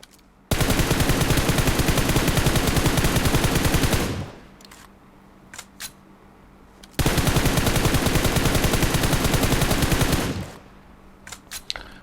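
Video game gunfire heard through Black Shark JoyBuds bass-boosted wireless gaming earbuds: two long, loud, rapid machine-gun bursts of about three and a half seconds each, with quiet gaps and a few stray pops between them.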